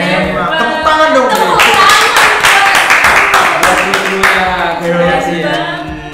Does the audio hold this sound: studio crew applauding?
yes